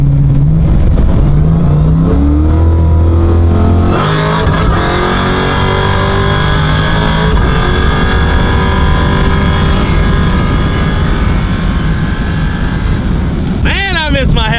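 Dodge Hellcat with a TH400 transmission accelerating hard, the engine note climbing through gears with a shift, loud from inside the car, with a voice speaking over it.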